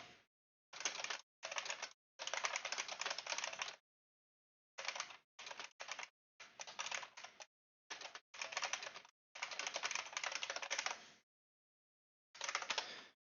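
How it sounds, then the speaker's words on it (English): Bursts of rapid keyboard typing, close and clear, in irregular runs separated by short pauses, with no talking. "This is just going to be a lot of typing."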